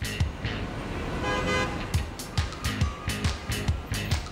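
Car horns honk repeatedly on busy New York City streets, with short, rhythmic toots over a steady wash of traffic noise, loud and nearby.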